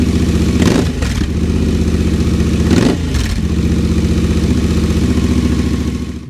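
A Royal Enfield Interceptor 650 fitted with a new exhaust idles loudly and close up in a steady, throbbing twin-cylinder rhythm, with a couple of brief blips in engine speed.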